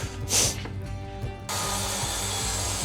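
A hand saw cuts the end off a wooden window sill piece during finish carpentry. Rough rubbing strokes come close and fairly loud over about three seconds, with a steadier, denser stretch of cutting in the second half.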